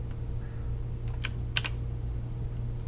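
A computer keyboard clicks under fingers pressing a shortcut, a few sharp keystrokes over steady background hum, close and fairly soft.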